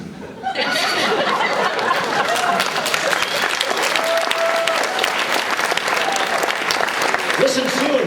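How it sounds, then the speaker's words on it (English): A Comic-Con panel audience at a cartoon voices session breaks into loud, sustained applause that starts suddenly and carries on throughout, mixed with scattered chuckles and laughter. "Amongst that applause, what is that?"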